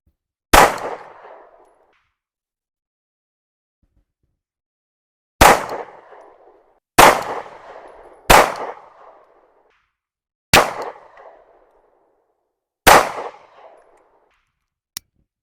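Rifle rounds fired one at a time to sight in an ADE Artemis red dot optic, six loud, close, sharp reports spaced a second or more apart, each trailing off briefly into silence, with a faint click at the end.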